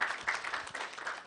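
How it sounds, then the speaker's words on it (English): An audience applauds commentator Ben Theodore, chairman of the PNG Disability Sector Coalition, at a national summit on ending gender-based violence: a brief burst of moderate, steady clapping from a crowd. "Please give him a round of applause."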